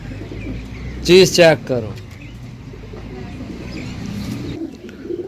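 Pigeons coo twice in a loud, close burst early on, with faint chirps after and someone talking nearby.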